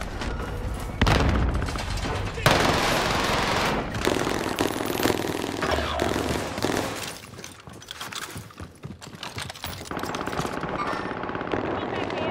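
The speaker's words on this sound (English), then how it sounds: "What an airstrike." Airstrike explosions and rapid gunfire in Call of Duty: Modern Warfare, loud continuous bursts of machine-gun fire with heavy booms rolling through, under excited game voices.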